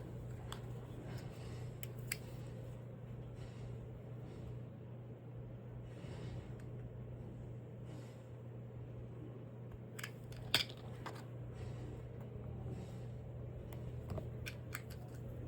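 Scissors trimming the edge of a paper planner page, with scattered quiet snips and crisp clicks over a steady low room hum, close and fairly soft, no one speaking.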